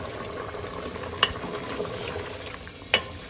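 Beef nihari bubbles in a pot with a soft, steady simmer and faint sizzling as browned fried onions and leftover ghee are added, broken by two brief sharp clinks of a utensil, close and quiet.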